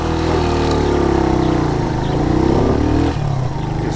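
Motorcycle engine during a riding license test runs close and loud, droning steadily with a slight rise in revs before easing back to a lower note.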